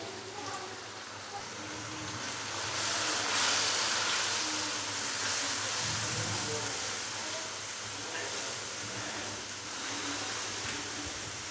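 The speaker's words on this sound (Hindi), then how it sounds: "थोड़ा सा पानी डालेंगे और मसाले को अच्छे से भून लेंगे" Spices frying in a pan with a little water added give a steady, dense hiss and sizzle that swells slightly midway and holds close and even throughout.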